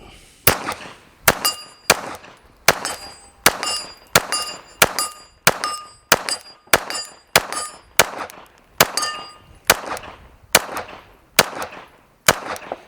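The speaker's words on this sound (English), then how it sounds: "here we are shooting at steel at about 32 yards again" A Glock 17 Gen 6 pistol fires a rapid string of about eighteen loud shots, each followed by a ringing clang as the round strikes a steel target about 32 yards away. The shots come in a fast, fairly even rhythm.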